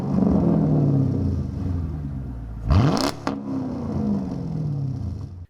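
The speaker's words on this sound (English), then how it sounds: "And here are a couple of revs." A Mercedes W210 E55 AMG with a straight-pipe exhaust, muffler and resonator deleted, idles with a deep rumble, then a single sharp, loud rev climbs quickly and falls back to idle, with a faint clatter after.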